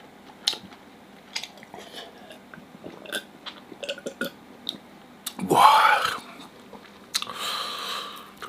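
Braised pork knuckle being chewed close up, wet smacking and crunching bursts scattered across the clip, with one louder chewy stretch in the middle and another near the end.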